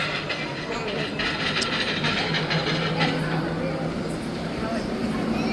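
A model train runs on an indoor layout, its faint rail clatter and rolling hum sitting under a busy, echoing room of visitors chatting in the background.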